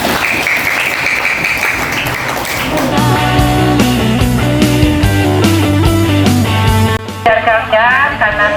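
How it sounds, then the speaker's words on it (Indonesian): Applause from an audience at a school student council election event, a steady broad patter that carries on as music with a low beat joins partway through and continues to the end. "tepuk tangan."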